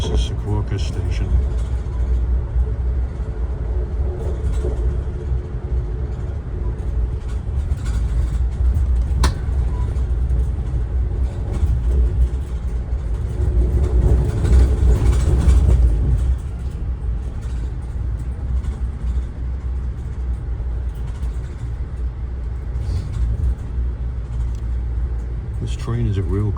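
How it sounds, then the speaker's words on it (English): Amtrak train #183 riding from New York toward Philadelphia, a steady low rumble of the moving car with a brief louder swell partway through, heard from inside alongside background voices. "This train is a real clunker to Philadelphia."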